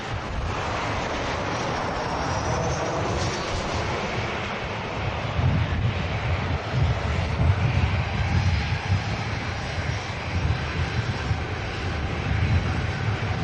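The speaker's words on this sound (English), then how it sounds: "Ryanair 737 coming in from Milan. Just landed." A Ryanair Boeing 737 arriving from Milan lands at Manchester Airport, heard as a continuous loud roar of jet engines mixed with heavy wind noise on the microphone and no talking.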